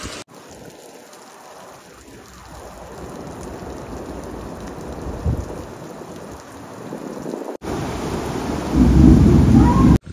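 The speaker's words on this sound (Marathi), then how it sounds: "तर मित्रांनो पुन्हा एकदा पावसाने सुरुवात केलेलीच आहे." Heavy monsoon rain pours down in the Konkan region, with rolling thunder rumbling early on, and the downpour grows louder and closer toward the end under strong wind.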